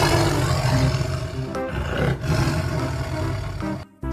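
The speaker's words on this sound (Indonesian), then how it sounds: "ada harimau putih." A white tiger's roar, a toy sound effect, plays as one loud sustained growling roar for about four seconds, with no talking over it, and cuts off abruptly near the end.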